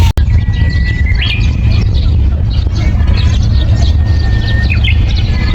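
Birds chirp in short, high tweets against a steady low rumble of traffic or wind on a breakwater at Yeonhwado, Tongyeong, with a couple of clearer calls standing out nearby.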